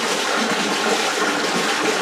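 Water pours steadily down the overflow drain of a laundry tub, a continuous rushing gush that stays close and loud, unchanging from start to finish.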